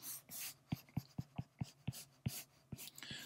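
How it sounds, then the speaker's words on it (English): A pencil sketches a cartoon Viking head on paper in short, quiet strokes about every quarter second, close up, in a near-silent room. "we're going to go ahead and start to sketch the head of the Viking"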